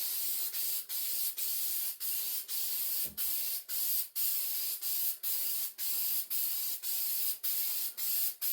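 Short spray bursts hiss as overspray is shot onto the carpet during a headliner install in a 1991 Dodge Grand Caravan van, about fifteen evenly spaced puffs, fairly quiet, with a faint thump midway.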